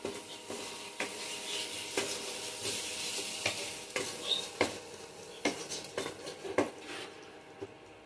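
Fried rohu fish heads are stirred into a spice masala with peas in a wok; steady sizzling runs under repeated sharp scrapes and clacks of a spatula against the metal.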